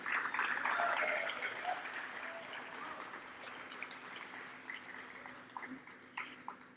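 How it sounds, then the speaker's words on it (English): Applause from a crowd at a high school baseball letter of intent signing ceremony, strongest at the start and then thinning into scattered claps as it fades, heard fairly faintly in a room. "So once again, big round of applause."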